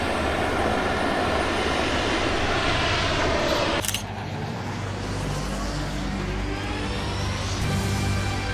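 A Jetman carbon fiber wing with jet engines in flight gives a loud, steady roaring jet whine that drops sharply midway and then continues as a lower rush of engine noise.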